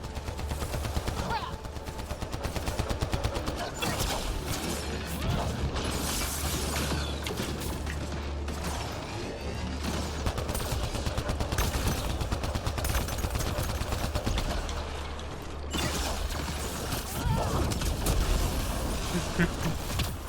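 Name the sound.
gunfire in video game Mass Effect Andromeda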